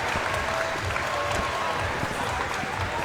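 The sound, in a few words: applause from home crowd at volleyball final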